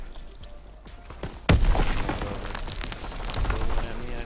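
Shotgun fire in a WWII shooter game on a forest map, a sharp loud blast at mid-clip followed by rumbling echoes, with fainter gunfire and a voice talking in the background.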